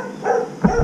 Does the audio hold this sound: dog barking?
yes